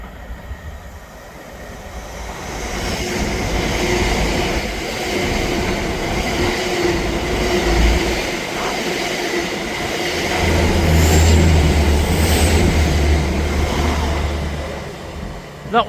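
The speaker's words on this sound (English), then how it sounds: "Passing through now is a delayed LNER service from London King's Cross to Aberdeen." An LNER passenger train running from London King's Cross to Aberdeen passes through Ladybank station with a loud, sustained roar and rumble, wheel noise and a faint squeal near the middle, with a brief voice at the end.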